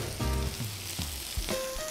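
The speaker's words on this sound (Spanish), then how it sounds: "Continuamos friendo nuestro arroz con el pollito, el chile verde, la cebolla" Rice with chicken, green chile and onion frying in a pan for a coconut curry chicken rice dish, a steady close sizzle with brief stirring scrapes and no talk.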